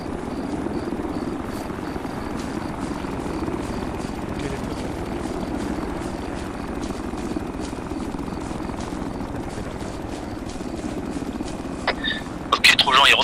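A helicopter in the video game Arma 3 runs with a steady rotor drone and engine whine as it lifts off, a continuous loud hum throughout, with a few sharper clicks and a burst of higher noise near the end.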